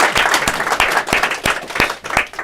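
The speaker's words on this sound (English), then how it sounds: "Round of applause for them." Audience applause at a talk on public health and the arts, a crowd clapping loudly with sharp individual claps standing out in a fairly regular rhythm.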